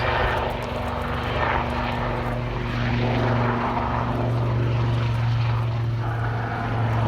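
A Wildcat helicopter drones steadily nearby at an airshow, performing wingovers, its rotor and engine producing a continuous low hum with a faint rising and falling whine as it maneuvers.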